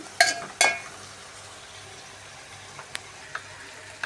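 Coriander, mint leaves and green chillies fry in a pan with a faint, steady sizzle, opened by two loud utensil clatters and followed by a few light taps, close and without talking.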